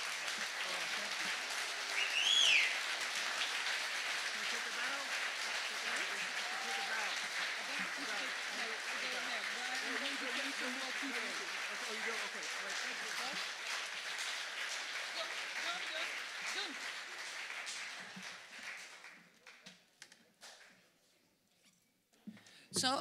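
Sustained audience applause fills a live concert hall after a folk performance at Het Nutshuis in The Hague, dense and steady for nearly twenty seconds before thinning out into scattered claps and fading.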